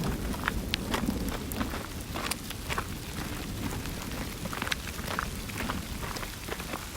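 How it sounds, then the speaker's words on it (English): Rain falls steadily outdoors, a soft, continuous patter with scattered sharper drops on a surface, moderately close and unbroken, with no voices over it. "Yeah, the rain didn't want to wait."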